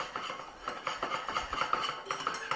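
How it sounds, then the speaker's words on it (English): A whisk stirring polenta in a pan over low heat, quick metallic clinks and scrapes repeating in a brisk rhythm, close and moderately loud with no talk. "All we have to do is stir it every few seconds or so."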